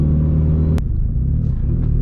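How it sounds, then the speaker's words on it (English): A Mitsubishi Lancer Evolution 8 engine rumbles loudly up close, a deep steady roar that briefly shifts pitch partway through as the revs change. "this car is so loud that as soon as you do a quick pull or something"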